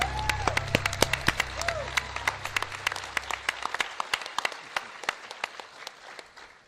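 Audience clapping at a Pax West gaming convention livestream, starting as a crowd of sharp, scattered claps over a low rumble, then thinning to sparse individual claps that trail off.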